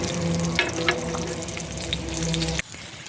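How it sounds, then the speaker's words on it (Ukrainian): Pork fat (salo) fries in a kazan with a dense, continuous sizzle and faint crackle close by, broken by a few light clinks, then cutting off abruptly near the end. "Спочатку обсмажуємо сальце."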